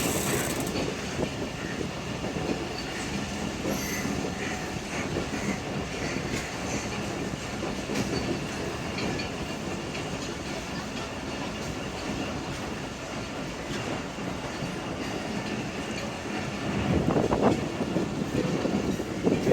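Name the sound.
Shalimar Express train carriages and locomotive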